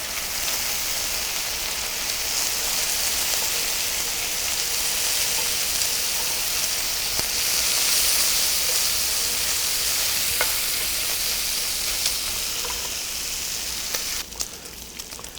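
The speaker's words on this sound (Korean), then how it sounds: "기름이 지금 막 계속 끓고 있잖아요. 이게 베이컨이 구워지고 있는 과정이에요." Bacon frying in bubbling, boiling fat in a pan, making a steady, dense crackling sizzle that runs the whole time, close and fairly loud, with a few louder pops and a brief clatter near the end.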